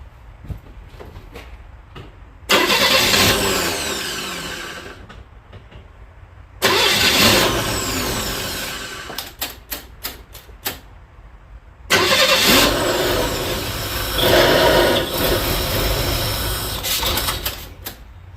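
A 1961 Chevy Bel Air engine, fitted with a new starter, cranks and fires in three loud bursts, running rough for a few seconds each time before cutting out, with quiet pauses between attempts.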